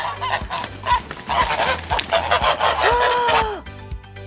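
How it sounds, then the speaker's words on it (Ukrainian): Several geese honk loudly and repeatedly close by, a noisy overlapping chorus of calls with no talking. "Ось так кажуть гуси."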